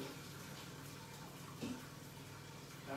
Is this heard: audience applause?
no